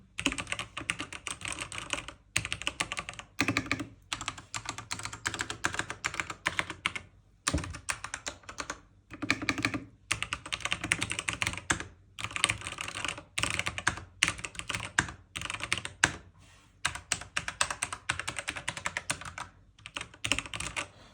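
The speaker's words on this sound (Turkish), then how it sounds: "size bir switchlerin K-Cap'lerin bir sesini dinletmek istiyorum" Steady typing on a budget mechanical keyboard with red switches, rapid clacky keystrokes in bursts and short pauses, close up and fairly loud, no voices.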